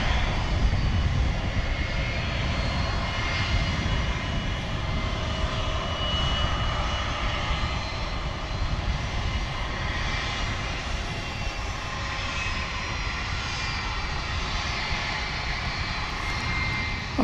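Boeing 757 jet engines revving up at night at an airport, a loud, steady broadband roar that holds throughout without pause, rumbling low with a bright hiss on top.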